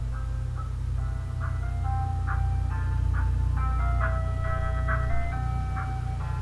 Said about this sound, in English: That is indeed an ice cream truck.